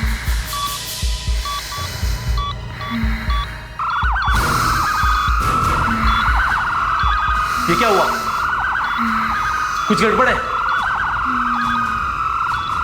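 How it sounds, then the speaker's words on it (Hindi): An alarm rings steadily through a building during a fire, a loud repeating electronic tone that starts softly and then jumps to full volume, with anxious voices talking over it. "ये अलार्म क्यों बज रहा है?"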